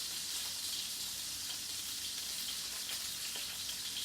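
A hamburger patty with squash fries in a pan, giving a steady, soft, continuous sizzle and crackle with no talking.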